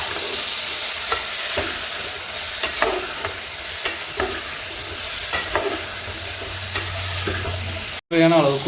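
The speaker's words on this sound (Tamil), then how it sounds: "அரிஞ்சு வச்ச முள்ளங்கியும் கத்திரிக்காயும் சேர்த்து போகிறோம்" Chopped radish and brinjal frying in a pan in a village kitchen, stirred continuously, producing a loud, dense sizzle with repeated scraping strokes of the spoon and a brief interruption near the end.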